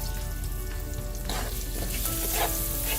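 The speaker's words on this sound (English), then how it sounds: "Now we're going to cook these down till the potatoes are slightly crispy and almost fully done." Baby potatoes and kale frying in a hot pan with cumin, salt and pepper, a continuous crackling sizzle up close with a few sharper pops and stirring scrapes, no talking.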